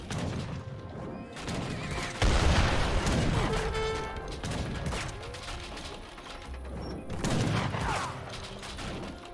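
Age of Empires III battle din: scattered gunshots and heavy bombard booms roll over clanking mechanical noise, with a few louder impacts rising from the steady background.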